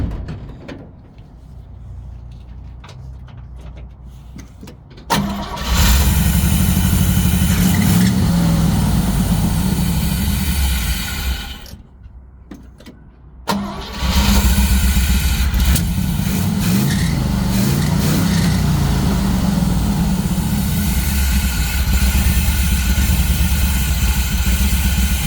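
A 1964 Chevy Suburban engine runs after a carburetor fix, idling at first, then roaring loud and steady at high RPM, briefly dropping off near the middle before revving up again and holding strong.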